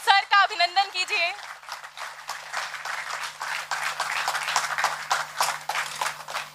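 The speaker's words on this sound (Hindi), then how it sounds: "जोरदार तालियों की गड़गड़ाहट के बीच सर का अभिनंदन कीजिए।" Audience applause welcoming the vice-chancellor, Professor Yogesh Singh, onto the stage at a formal university ceremony; a voice is heard briefly, then sustained clapping continues steadily to the end.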